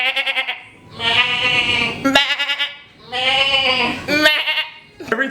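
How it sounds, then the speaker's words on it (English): Goats screaming in repeated loud, harsh bleats, three long wavering cries with short breaks between, close and alone. "We can't be the only ones who laugh at the goat screams."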